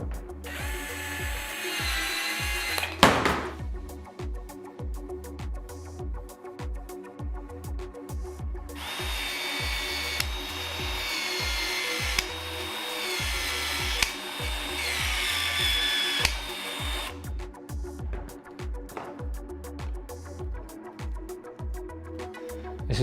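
Milwaukee M18 VLD expansion tool, rated for 40–63 mm pipework, expanding Uponor Q&E plastic pipe, with a steady pulsing mechanical whir and repeated clicking strokes in a rhythmic cycle, loud and close, with no talking.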